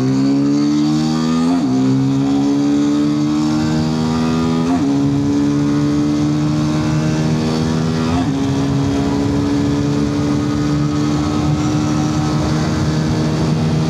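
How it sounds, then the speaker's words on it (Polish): QJ Motor SRK125 R motorcycle accelerating hard toward 100 km/h, its loud buzzing engine climbing in pitch through several gear changes, each marked by a brief drop before rising again, close and continuous. "sprawdźmy, jak szybko to przyspieszy do 100 i wyhamuje do zera"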